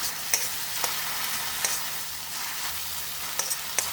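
Raw bagoong shrimp paste sautéing with garlic and ginger in a pan, a low continuous sizzle broken by occasional light taps of a spatula, fairly quiet and near.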